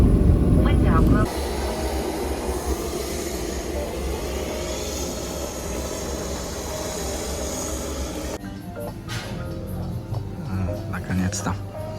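Airplane cabin after landing with engines running, a steady loud roar and hiss under a cabin announcement, followed by quieter cabin noise and passengers talking.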